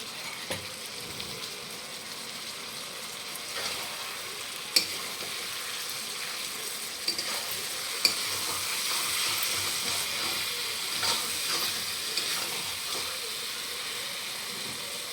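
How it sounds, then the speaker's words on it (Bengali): Onion, ginger and garlic masala paste is sautéed in a pan for a meat curry. A soft, even frying hiss runs throughout, broken by occasional faint stirring clicks. "তখন এটা আবার একটু সাতলাম।"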